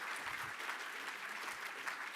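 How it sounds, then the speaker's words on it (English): A cultural diversity awards audience applauds a speaker, a dense, steady wash of many hands clapping at once that holds even throughout the short stretch. "Everyone, please give another round of applause and thanking Adele Gamar."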